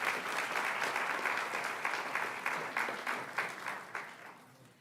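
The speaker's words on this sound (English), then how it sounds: "Let's give them another round of applause." A crowd at a state education board meeting gives a round of applause to people being recognised. The dense clapping runs for nearly five seconds, with a few sharper individual claps standing out as it gradually tapers off.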